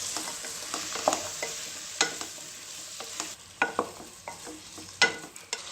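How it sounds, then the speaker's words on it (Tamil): Diced carrot, beans and potato sautéing in a hot pan for mint pulao, with a steady sizzle broken by a series of sharp spoon scrapes and clinks as the vegetables are stirred, close and fairly quiet. "இதையும் ஒரு டைம் நல்லா வதக்கிடலாம்."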